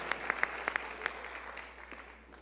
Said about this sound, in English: So another round of applause for everybody.